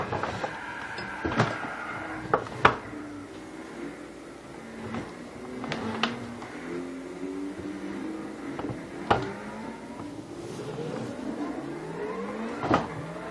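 A race car in a driving video game revs and whines through shifting engine tones, with tire skids and knocks as it spins out, fairly loud and alone without speech.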